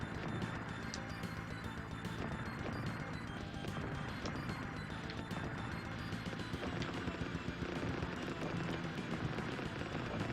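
Rapid gunfire from a weapon in the SNES shoot-'em-up Strike Gunner STG, a dense, continuous stream of crackling shots and explosive bursts running the whole time without pause.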